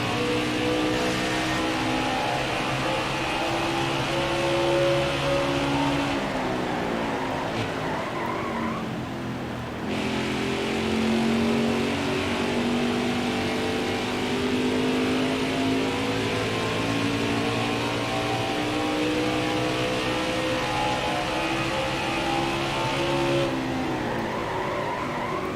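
Race truck engines roaring and revving in NASCAR Heat 5's Gander Truck Series at Gateway, a continuous loud drone of several trucks racing together, with tire squeal and skidding heard through the pack.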